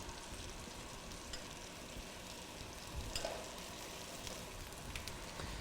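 Mushrooms for a ragu cook in a hot pan alongside roasted sea bass, giving a steady, soft sizzle and crackle with a few small pops, fairly quiet and continuous with no speech.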